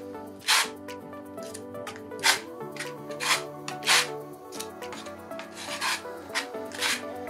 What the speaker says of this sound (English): So I'm loading up some Venetian plaster on the trowel. And skimming it over the surface.